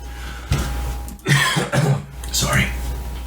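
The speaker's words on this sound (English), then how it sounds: "I keep coughing." Someone coughs several times in quick, harsh bursts, close to the microphone, during a casual podcast conversation.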